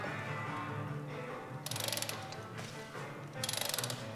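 A ratcheting torque wrench tightens a trailer axle nut on a tandem trailer, with two short bursts of rapid clicking over a steady background hum.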